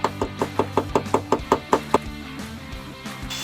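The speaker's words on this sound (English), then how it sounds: "So I have to clean up the welding that I did do with a hammer and dolly set." A hammer striking a dolly against welded body metal on a Mercedes-Benz door: a quick steady run of about ten sharp, close metallic knocks, followed by a few softer scattered taps.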